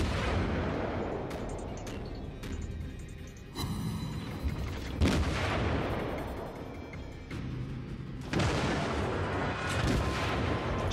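Naval artillery fire in World of Warships, with heavy booming shots that land repeatedly at irregular intervals. The blasts are loud and close over a constant low battle rumble.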